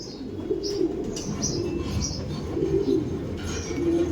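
Racer pigeons with young birds coo softly in a loft, several brief throaty calls scattered over a steady low background murmur.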